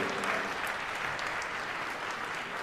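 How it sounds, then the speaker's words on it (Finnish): Audience at a live fight event applauding fighter Tommi Heikkinen of Oulu's fighting club, a dense steady clapping from a crowd filling the room, even and sustained throughout. "Vielä annetaan aplodi Tommi Heikkinen, Oulun kamppailuklubi"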